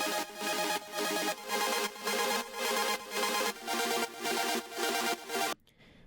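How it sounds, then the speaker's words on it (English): Wavetable synth saw wave playing an arpeggiated chord that climbs and drops an octave, pulsing in steady bright bursts roughly every half second, loud and alone until it cuts off near the end. "saw wave again, and it is with an arpeggiator that is triggering the chord and going up an octave and down an octave"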